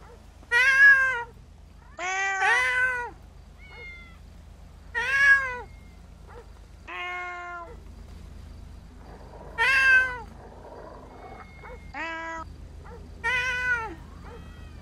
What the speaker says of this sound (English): Oh my God, there's three cats on the roof now.